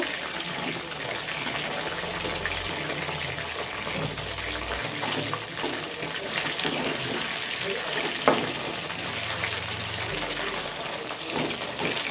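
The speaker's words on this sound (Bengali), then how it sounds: "আমার চিকেনগুলো ভাজা হয়ে গেছে" Chicken pieces for chili chicken frying in a pan, a continuous moderate sizzle with occasional clinks and a sharp tap near the end, heard close up without talking.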